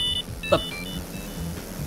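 A cell phone in a racing video game gives a brief electronic beep, a couple of thin tonal chirps with one sharper blip, over a low, steady engine-like drone.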